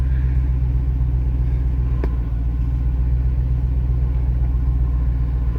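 A 1972 Range Rover engine rumbles steadily at low revs as it descends a hill in one-wheel drive with no diff lock, a constant deep drone with a single brief knock partway through.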